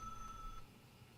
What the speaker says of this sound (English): It sounds too much like my work phone.